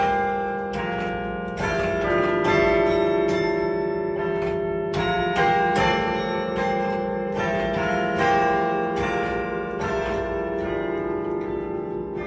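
Carillon bells ring out in a continuous, full peal, many tuned bells struck in overlapping succession with long ringing decay, loud and steady throughout without any voices.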